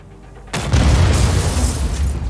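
A generator blows apart in the Just Cause video game, one sudden loud blast with a deep rumbling tail that keeps roaring for about two seconds after a quiet opening.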